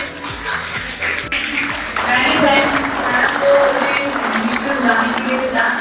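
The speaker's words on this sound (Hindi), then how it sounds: "मैम का स्वागत है, एक जोरदार तालियां मैम के लिए मुझे।" Audience clapping in an indoor hall to welcome a female guest at the Kalanjali event, a fairly loud, steady patter that builds partway through, with voices talking over it.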